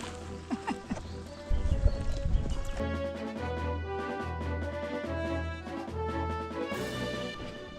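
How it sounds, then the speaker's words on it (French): A horse's hooves clip-clop at a steady walking pace on a hard surface, close and clear, with a few faint background sounds early on. "pendant que Antoine est sur le cheval"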